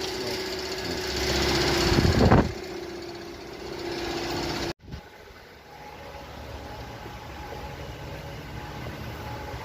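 A low-power Cummins diesel engine runs with a rough, rattling hum that swells, then drops abruptly near the middle before settling back into a quieter steady idle; no talking.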